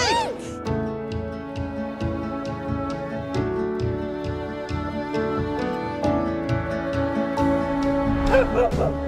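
Dogs bark and yip close by in quick, irregular bursts, with whimpers mixed in over a busy, layered backdrop.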